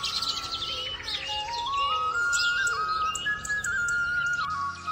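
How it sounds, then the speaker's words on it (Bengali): Birds chirp and whistle continuously in the daytime over a steady outdoor village background hiss, several calls overlapping with rising and falling tones. "দিনের বেলায় পাখির ডাক"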